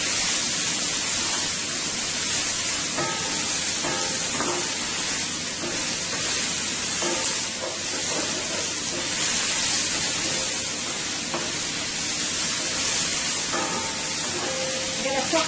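Onions sizzle and crackle in a hot pan, making a continuous loud frying hiss at close range, with faint background music running underneath.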